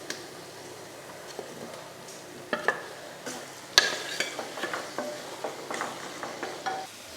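Potatoes are stirred into a frying masala for egg curry, giving a soft, constant sizzle beneath repeated scrapes and clacks of the spoon against the pan, with no voices.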